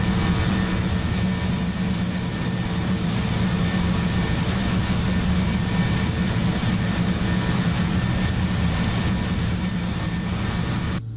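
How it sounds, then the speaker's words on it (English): Twin engines of a Beech B200 King Air turboprop drone steadily while cruising toward 8,500 feet in the FSX flight simulator, a constant, even hum that runs unbroken from start to end. "those engines sound so quiet, but when you go outside,"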